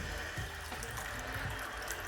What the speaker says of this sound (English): I'm gonna add the water, about 2 cups.